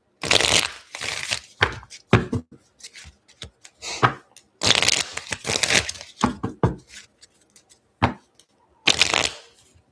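Tarot cards are shuffled by hand in quick, crisp riffling bursts separated by short pauses, close and clear, with soft card taps between the bursts.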